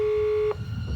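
Telephone dialing tones: a steady single tone holds for about half a second, then cuts off abruptly, leaving low background rumble.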